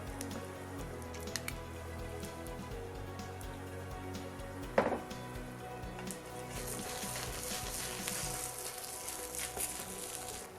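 Thin-sliced pork belly fries in a pan for a kimchi pancake, making a quiet, steady sizzle with a brief clatter midway and no talking.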